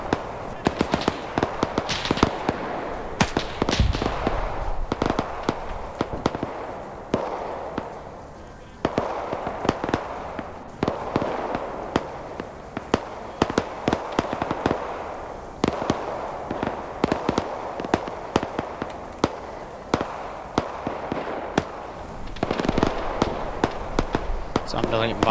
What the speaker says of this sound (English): Doing a great job with these mortars